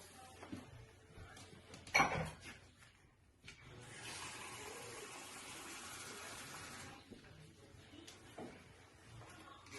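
Tap water pours over crab apples in a container for fermenting, a steady gushing stream lasting a few seconds after a brief clatter, close and fairly quiet, with no talking.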